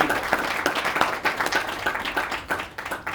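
Audience at an Arya Samaj annual gathering applauding the organizers, brisk clapping from a moderate crowd throughout, fairly close and steady with individual claps standing out.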